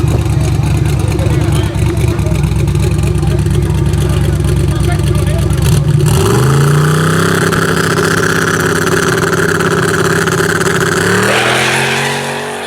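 A street race car at a Memphis drag event runs hard, a loud sustained engine roar with tire noise, then the pitch sweeps upward as it accelerates away through the gears.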